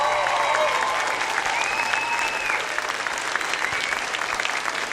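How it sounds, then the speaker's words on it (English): Audience applause at a school holiday concert: dense, sustained clapping from a crowd that gradually thins, with a few voices faintly audible underneath. "Can we get a big round of applause for Mr. Beal?"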